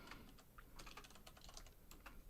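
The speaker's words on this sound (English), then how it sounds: "I'm typing again." Quick, uneven keystrokes clatter on a computer keyboard, close and fairly quiet, in a steady burst of typing with no voices.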